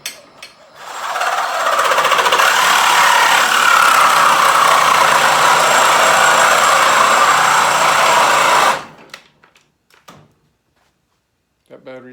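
A battery power tool cuts through the frame of a Norton Commando motorcycle during a brat-style build, a loud steady whining grind lasting about eight seconds before cutting off abruptly, followed by faint handling clatter.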